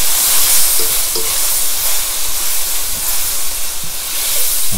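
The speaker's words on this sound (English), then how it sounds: "So all I do is pretty much just caramelize this" Pikoman soy sauce sizzling steadily in a hot pan as it caramelizes, a loud continuous frying hiss with occasional faint spatters and stirring sounds, no voices.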